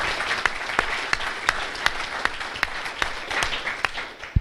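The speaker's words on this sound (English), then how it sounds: "Let's give her a round of applause." An audience claps warmly in a room, a steady patter of many hands with a few sharp, louder individual claps standing out near the front.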